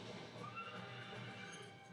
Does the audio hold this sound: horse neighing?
yes